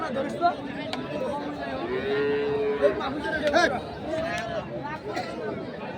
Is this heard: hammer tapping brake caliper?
no